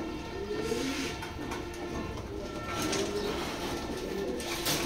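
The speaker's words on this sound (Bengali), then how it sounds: "ওনার কবুতর মাদিটা" Racing pigeons cooing close by, a female proven over seven races among them, with low repeated coos running steadily under a constant background hum and no talking.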